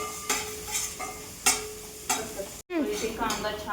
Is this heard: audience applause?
no